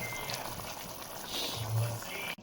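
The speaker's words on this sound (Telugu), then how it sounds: "చూసారు కదా, బాగా మరిగిపోయింది." Nellore-style fish curry broth with raw mango at a steady boil in a pot, a soft, constant bubbling hiss with a slightly louder swell of bubbling near the end.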